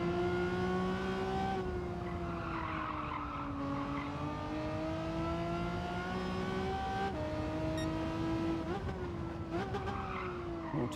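Race car engine in Gran Turismo 7 during Gr.4 and Gr.3 lobby racing, a loud continuous high-revving drone that rises and falls through gear changes, with tire squeal and skidding running beneath it.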